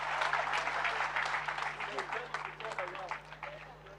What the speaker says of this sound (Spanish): Vamos a aplaudir a Jesucristo una vez más.